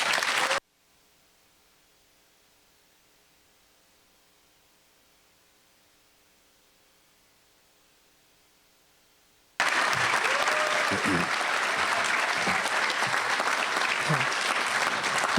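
Applause from an audience at a fall convocation ceremony, starting abruptly after a long near-silent stretch and continuing as steady dense clapping to the end.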